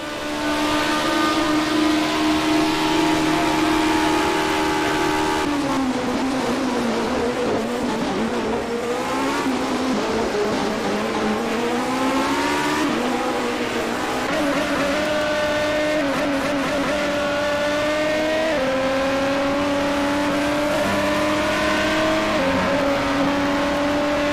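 A Formula 1979 race car in the rFactor 2 racing game screams loudly, its engine pitch dropping in steps as it downshifts through gears and then climbing again under acceleration, sustained and close with no talk.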